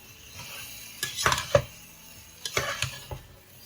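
A spoon knocks and scrapes inside a pot as beans and plantains are stirred together, two short clusters of clinking, scraping strokes separated by quiet, close and moderately loud.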